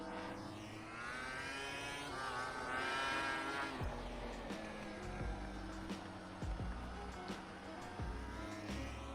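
A 2009 MotoGP racing motorcycle in the GPBikes simulator, its engine whining up through the gears with rising revs, brief dips at each shift, and a steady loud buzzing drone throughout.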